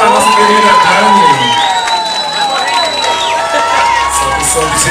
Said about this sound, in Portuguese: Aplausos para a nossa querida Dani.